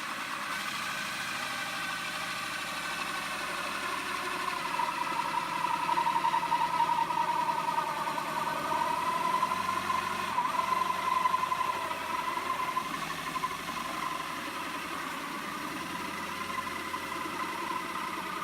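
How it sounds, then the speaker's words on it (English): A hole saw spins slowly through plastic for a DIY chicken feeder, making a steady droning whine with a faint rising tone. It runs continuously at moderate level, with no talk. "let the hole saw heat the plastic a little bit so that it doesn't crack"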